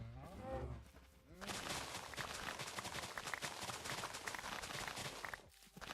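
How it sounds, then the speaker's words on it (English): Cows moo in the Minecraft video game, a couple of low drawn-out moos near the start, followed by a dense rattle of blocky footsteps and game noise that runs to the end. "My cows."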